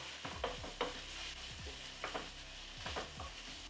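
Onions cooking in olive oil give a quiet background sizzle, broken by repeated scraping and stirring strokes in short bursts every second or so, faint and close, with no one speaking.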